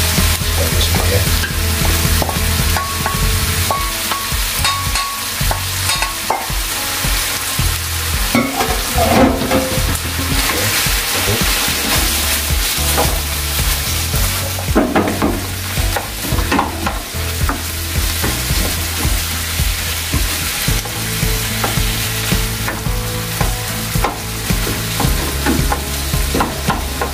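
Steady sizzling of vegetables frying in a hot pan, with continuous scraping and stirring throughout, close and loud, no talking.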